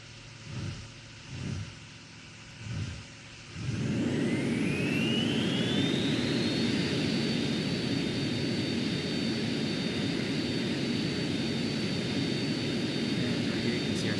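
A jet-engine dragster in the Simpleplanes game spools up after a few short bursts, rising into a loud, sustained roar with a climbing whine that holds steady to the end.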